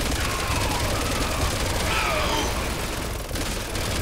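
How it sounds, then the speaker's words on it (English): Enemy gunfire in the Resident Evil 6 video game, a dense continuous burst of rapid shots close up and loud, with game sounds layered beneath. "He's shooting me"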